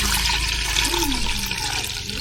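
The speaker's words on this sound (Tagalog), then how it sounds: "Yan mga idol, magpakulo muna tayo ng tubig." Water from a tap pours steadily into a cooking pot, filling it for boiling before a sinigang of mamsa and tulingan fish; a continuous, close, fairly loud rushing splash with no talking.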